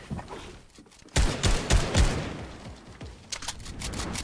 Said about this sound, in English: When'd you start shooting?